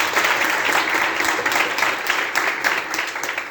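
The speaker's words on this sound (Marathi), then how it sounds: "आणि जोरदार टाळ्या वाजवा." A college audience at a social work event in Amravati applauds loudly, a dense, steady wash of many hands clapping together for the whole stretch.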